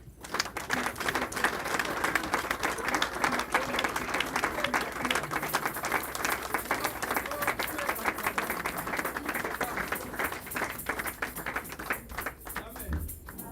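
A church congregation at a Sunday service applauds steadily, a dense, even wash of clapping from many hands that carries on throughout, with voices mixed in.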